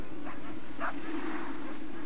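Huskies kept as sled dogs in the snowy, icy Arctic give two short, sharp barks or yips over a steady background hum, with no talking.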